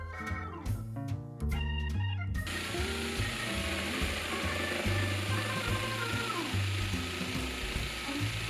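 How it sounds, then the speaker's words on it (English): A jigsaw cuts the legs off an old MDF cabinet, starting with a few short stuttering bursts, then running as a steady, close, buzzing rasp through the rest of the clip. "I taped the cabinet to guide my jigsaw cuts."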